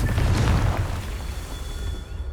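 A Confringo blasting spell explodes in Hogwarts Legacy, a deep booming burst with a heavy low rumble that fades out over a couple of seconds.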